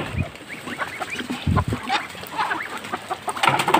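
Free-range chickens and muscovy ducks at feeding time cluck, chatter and honk together in an overlapping, busy flock nearby, with no one speaking.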